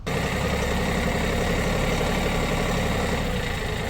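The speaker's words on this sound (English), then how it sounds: "I'm going to start up the tractor, roll it." A tractor engine idles steadily with a loud, low rumbling drone and constant vibration, close by and uninterrupted.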